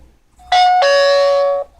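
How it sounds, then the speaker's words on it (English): Power-on chime of an iCare Full HD 1080P WiFi car DVR camera: two loud, clear electronic tones in quick succession, a short note followed by a longer sustained one, heard alone with no talking. "The unit comes with a pretty annoying chime"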